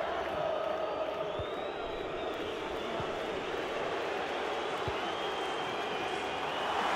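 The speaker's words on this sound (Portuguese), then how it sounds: "A torcida tá fazendo a parte dela." Dense stadium crowd noise in an EA FC football video game, a steady roar with scattered cheers and shouts, distant and sustained throughout, under Portuguese commentary.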